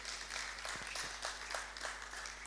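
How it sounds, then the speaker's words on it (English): Audience applause at a soil health and sustainable fertilizer conference in 2025, a fairly faint, steady patter of many hands clapping over a low hum, without voices. "A round of applause to Jeremy."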